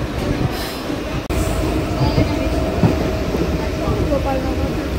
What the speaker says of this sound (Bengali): গোপালনগর ঢুকছে ট্রেন।